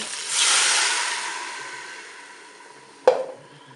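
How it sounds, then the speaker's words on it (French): Broth poured into a hot Cookeo multicooker pot holding onions for a pork roast in mustard sauce, rising into a loud rushing hiss that slowly fades, then a single sharp metallic clink near the end. "Allez, je vais ajouter mon bouillon."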